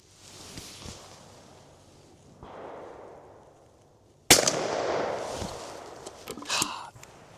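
Blaser FBX shotgun with 32-inch barrels and modified choke firing Browning ammunition at 30 yards, one sharp report midway after quiet rustling, followed by noisy handling.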